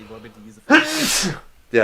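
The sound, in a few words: sneeze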